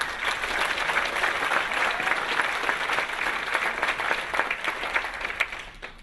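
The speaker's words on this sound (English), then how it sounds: "So please give him a round of applause." An audience gives a round of applause for Michael Firth at a business presentation; dense, steady clapping fills the room throughout and tapers slightly at the end.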